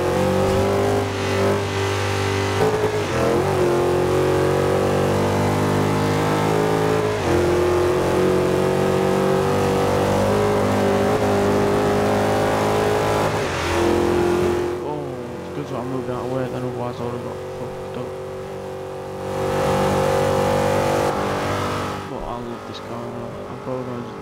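Oldsmobile Hurst 442 engine in the Forza Horizon 2 racing game, revving loudly and steadily with pitch rising and falling through gear changes, briefly dropping off mid-run before roaring back; a voice talks over it.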